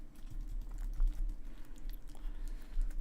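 Steady typing on a computer keyboard, a close run of rapid clicks at moderate loudness with no voices over it.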